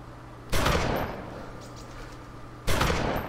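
Two loud rifle gunshots from the DayZ video game, each a sharp close crack with a long decaying echo, spaced about two seconds apart over a low steady hum.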